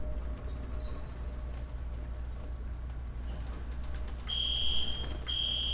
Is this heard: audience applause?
no